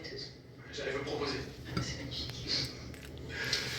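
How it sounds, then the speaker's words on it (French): Bacon frying in a pan for an egg and bacon muffin, with soft clinks of utensils on the pan over a steady sizzle and a person talking throughout. "là, on le cuit dans une poêle"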